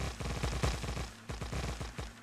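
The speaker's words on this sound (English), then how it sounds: "And now let's get in the car. It's very noisy." In the Factorio video game, a huge, slow car smashes through trees, giving a rapid string of loud, crackling impacts in two bursts with a short gap between them and no voices over it.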